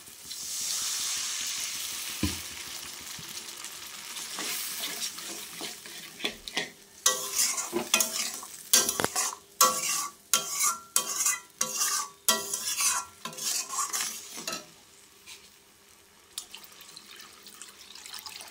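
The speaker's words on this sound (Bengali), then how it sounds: "মশলাটা খুব সুন্দর করে কষিয়ে নিয়েছি" Spice paste for a rita and tengra fish curry being stirred and fried in a pan, steady sizzling with repeated scraping stirs that grow sharper and more rhythmic, sounding close and alone.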